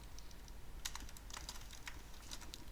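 Fingers type on a computer keyboard, with scattered light key clicks and a few quick runs of taps, close and fairly quiet, with no talking.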